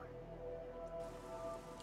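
Steady, soft heavy rain in the video game Fallout New Vegas patters continuously at low volume, with faint tonal background hum beneath it.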